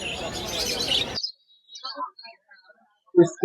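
Small chirps from a baby bird at a bird market come in short, scattered bursts, following a brief stretch of loud, noisy crowd sound and ending with a couple of closer, louder calls.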